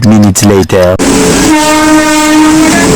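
A loud passenger train horn blasts steadily after a few short honks, droning on near and strong over rumbling rail noise.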